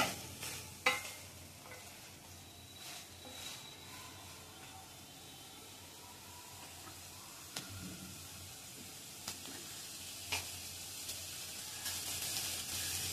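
Mixed vegetables fry in butter with a faint, soft sizzle broken by occasional stirring clicks and utensil taps, quiet and close, swelling slightly toward the end, with no talking.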